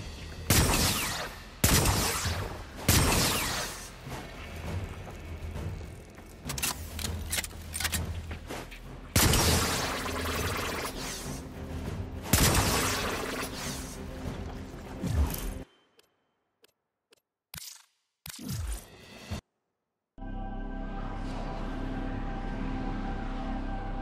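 Gunfire shooting at targets in the Warframe video game, repeated loud sharp shots and bursts with mechanical clatter, then a stretch of near silence with a few isolated clicks before a steady hum resumes.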